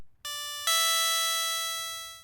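A synth bell voice built from a pulse-width wavetable on a Polyend Tracker rings out, struck twice in quick succession and then sustaining with a bright, slowly fading metallic tone, clean and alone.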